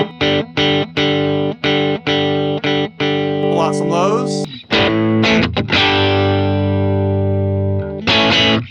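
An electric guitar with mild stock pickups plays through an amp turned all the way up with extra treble, giving a crunchy, lightly distorted tone. Choppy repeated chords give way to someone speaking briefly, then a long ringing chord and a final strum.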